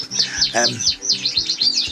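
Young canaries of the border, fife and red agate mosaic breeds chirp in an indoor aviary, a close, busy stream of rapid high tweets and trills with one louder burst near the middle.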